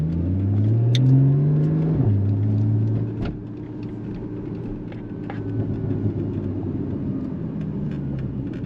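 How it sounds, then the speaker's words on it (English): A Porsche Cayman GTS engine and exhaust while driving around town: a steady, moderately close engine note rises in a rev, drops as the car shifts, then settles into an even, low, rumbling cruise with no talking. "I do love the exhaust on these things, how they wrap up like that."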